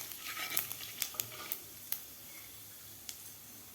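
Fenugreek seeds, cumin and mustard seeds sizzling in hot oil and being stirred: a soft hiss broken by sharp crackles and spoon clicks, close and quiet, thinning out toward the end.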